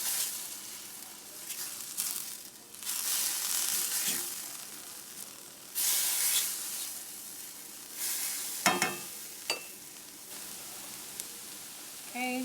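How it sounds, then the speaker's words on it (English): Onions and minced garlic sizzle steadily in a hot pan, the frying rising and falling in waves with occasional stirring clatter, close and fairly quiet, with no talk over it. "we are going to saute this until our onions are translucent"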